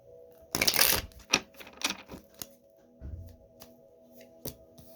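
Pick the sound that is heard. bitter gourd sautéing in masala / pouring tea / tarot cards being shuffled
tarot cards being shuffled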